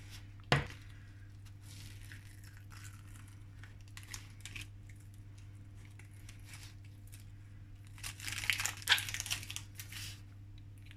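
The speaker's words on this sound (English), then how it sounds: "I'm just going to peel that" Cut vinyl being peeled away from its backing while weeding a Cricut Maker project: a low steady hum with one sharp snap early on, then a burst of crinkly tearing and peeling noises near the end.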